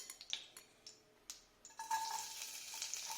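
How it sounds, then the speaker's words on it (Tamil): Finely chopped garlic hits hot oil in a pan and bursts into a steady close sizzle, preceded by a few sharp clicks and taps, the frying growing louder and continuous. "வெள்ளைப்பூடை நல்லா பொடி பொடியாக நறுக்கிக்கோங்க. நல்லா ஃப்ரை ஆகட்டும்."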